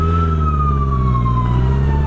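An ambulance siren wails loud and close in city traffic, a steady sweeping tone held over deep engine rumble, with no voices.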